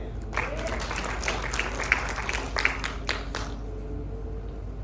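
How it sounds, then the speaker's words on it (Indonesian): A church congregation at a Sunday service in Cianjur claps together, a busy run of hands that swells, holds for a few seconds and then fades out toward the end. "Tepuk tangan bersama"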